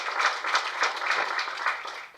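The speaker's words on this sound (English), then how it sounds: "welcome you to clap for yourselves" A roomful of people at an agribusiness competition event clap steadily for themselves, a dense, continuous patter of hands with no voices on top.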